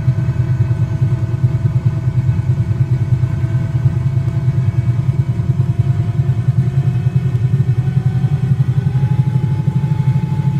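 A loud, constant engine drone fills the whole stretch: a simulated Cowan 222B aircraft at full throttle in Microsoft Flight Simulator, a steady rumbling hum with no pauses.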